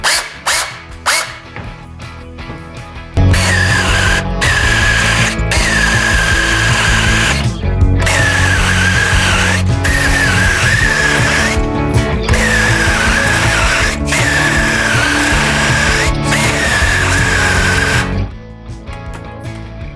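A cordless mini chainsaw, a Sequoia SBC2004M-QV, whines loudly and steadily cutting wood for about fifteen seconds with slight pitch dips, preceded by a few short bursts and rattles, up close.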